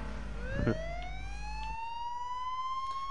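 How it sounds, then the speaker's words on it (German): A police car siren in the video game H1Z1 wails upward in a single rising sweep that holds a high, steady tone, over a low engine rumble that cuts out partway through. "Ich höre Polizeiauto."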